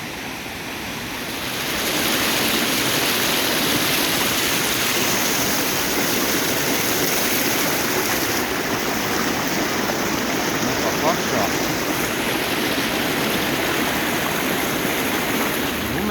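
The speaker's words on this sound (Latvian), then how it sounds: "Saturnijas termālie baseini." Steady rush of flowing water at the Saturnia thermal pools, a continuous broadband wash that fades in over the first two seconds and then holds evenly throughout, with no voices.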